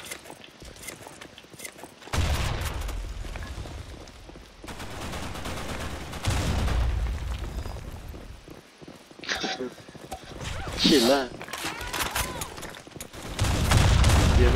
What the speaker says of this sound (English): Oh yeah, it's shotgun.